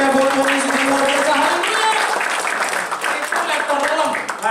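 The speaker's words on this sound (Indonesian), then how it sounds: "Tepuk tangannya meriah buat Tuhan Yesus yang luar biasa" A church congregation claps and cheers in praise of Jesus during a worship service, loud, dense applause sustained throughout, with a voice carrying over the crowd.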